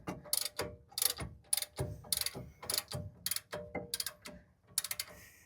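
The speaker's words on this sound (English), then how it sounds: "I'm going to use the torque wrench, which has more leverage" A torque wrench ratchets on the ball joints of a 2001 Dodge Ram 1500, in a rapid series of sharp metallic clicks in bursts with brief gaps, close and alone.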